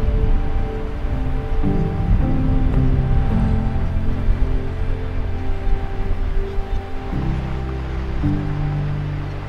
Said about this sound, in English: I'm by the beautiful beach of Luskentyre